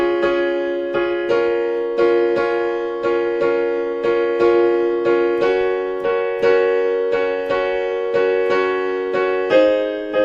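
Piano plays a repeating broken-chord pattern from a song, steady evenly spaced notes with sustained chords shifting every few bars, clear and close with no talking.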